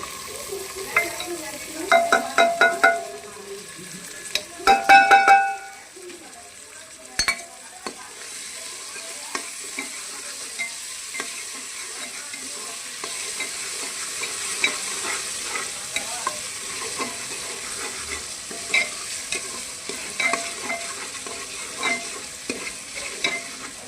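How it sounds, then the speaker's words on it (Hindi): Soaked chana dal stirred through a frying spice masala, with a few loud scraping stirs early on, then a steady close sizzle carrying light clinks of the spoon for the rest. "अब हम इसमें डाल देंगे चने की दाल जो हमने धो ली थी, वो भिगो ली थी"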